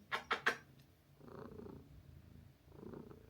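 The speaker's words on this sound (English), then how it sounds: "Can you hear that purring?" A cat purrs softly up close in two low, rumbling stretches, after a few brief sharp sounds at the start.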